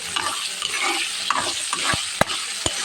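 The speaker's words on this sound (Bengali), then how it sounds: "এখন আমি এই তেলের ভিতরে এখন আমি সুন্দর করে আলুটাকে ভেজে নেব" Potatoes fry in hot oil for a quail-egg and potato bhuna, a bright continuous sizzle stirred with a spatula that adds scraping and a few distinct metallic knocks against the pan.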